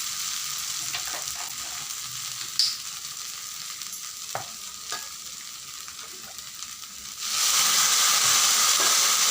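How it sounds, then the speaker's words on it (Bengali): Water spinach (kalmi shak) frying over low heat gives a steady, soft sizzle with a few scraping stirs. The hiss grows noticeably louder and brighter near the end. "এটা দেওয়ার পরে হালকা আঁচে ভাজতে হবে"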